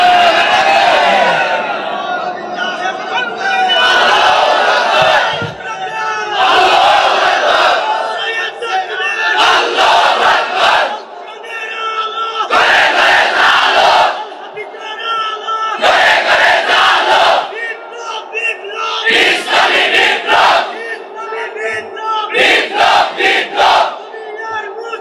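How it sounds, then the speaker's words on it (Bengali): A large crowd shouts the takbir, Allahu Akbar, in loud repeated waves of massed voices, each chant rising and breaking off in rhythmic bursts, close and powerful throughout. "তাকবীর দাও।"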